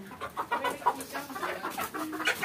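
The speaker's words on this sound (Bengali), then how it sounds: "খালামণি মুরগি পালে" Chickens clucking inside a backyard coop kept by a family relative, several birds calling in overlapping short bursts at moderate distance, fairly quiet and steady.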